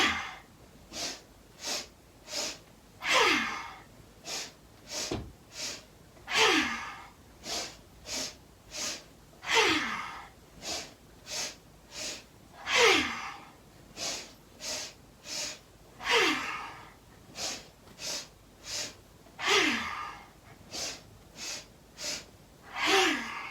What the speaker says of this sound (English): we'll take 8 rounds of this breath of joy